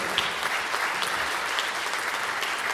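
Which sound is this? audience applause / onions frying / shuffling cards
audience applause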